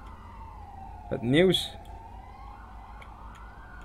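A short siren wail from an emergency vehicle in a police roleplay video game set on Antwerp roads rises briefly in the middle, over a steady background hum, with a voice speaking.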